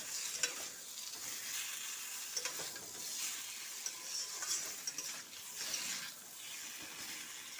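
Fried pointed gourd and potato pieces are stirred gently with a spatula in a spice mix. A steady soft sizzle runs under occasional light scrapes, fairly quiet and close.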